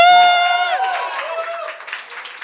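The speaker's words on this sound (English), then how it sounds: "can I get a massive round of applause to say we're launching our game jam right now?" A gathered audience cheers and claps to launch a game jam at an indoor community event. A sustained high whoop opens the sound, and a short burst of applause and crowd noise follows.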